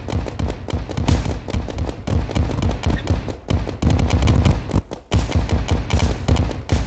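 Rockets exploding in Terraria, a dense, loud, continuous crackle of rapid thumping blasts with brief gaps, under occasional talking.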